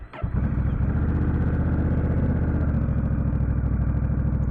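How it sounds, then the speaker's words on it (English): Honda Rebel 1100 DCT motorcycle engine cranking briefly, then catching and settling into a steady, loud, low-pitched rumbling idle close by, with no talk. "Now we will fire her up, give her the old pep talk, and see how she sounds"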